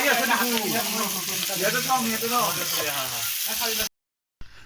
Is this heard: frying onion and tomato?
yes